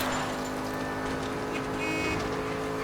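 A fast car in a chase in the game L.A. Noire roars steadily at close range, a continuous engine drone with faint horn-like tones, ending in a sudden louder burst.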